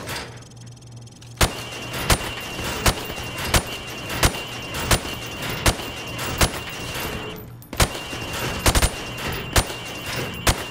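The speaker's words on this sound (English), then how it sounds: "I want you to shoot the targets through the wood." Rifle fire in Call of Duty: Modern Warfare Remastered, sharp single gunshots cracking at a steady pace through wooden cover at pop-up targets, loud and close over a low hum, with a brief pause midway.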